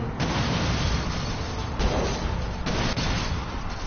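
Explosions in the Mad Max video game, a dense continuous rumble of blasts and booms with several heavy hits standing out, loud and close, no talk over it.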